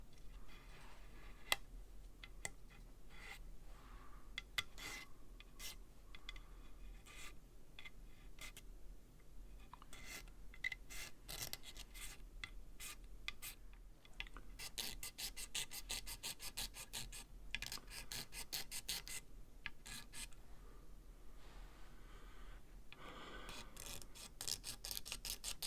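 A single-sided razor blade scrapes a rosewood or ebony guitar fingerboard on a Fender, in quiet, close rasping strokes that come in irregular bursts and quicken into rapid runs.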